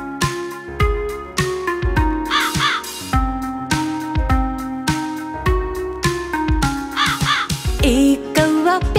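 Crow caws recur in a children's Hindi nursery rhyme, rhythmic harsh calls set against bright, loud, steady music throughout.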